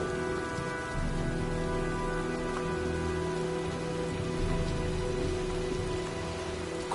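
Steady, unbroken rainfall pours across a storm scene in the video game Heavy Rain, a dense wash of drops with no distinct thunderclaps and no voices.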